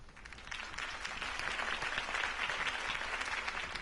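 A crowd applauds after a campaign speech in Batman: The Telltale Series, a steady wash of many hands clapping at moderate distance, continuous and even throughout.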